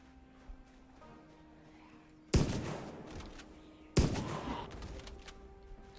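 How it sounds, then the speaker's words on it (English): Two loud shotgun blasts in Project Zomboid, spaced about a second and a half apart, each a sharp bang with a lingering rumbling decay over quiet game ambience. "I'll just shoot with a shotgun real quick"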